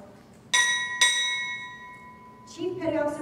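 A ship's bell at a naval chief pinning ceremony rings twice, two bright, evenly spaced strikes that ring on and fade, followed by a voice speaking.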